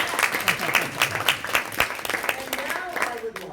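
Audience applause at a Toastmasters meeting, a steady burst of many hands clapping in a room, fairly close and loud, carrying on for several seconds with a voice briefly audible underneath.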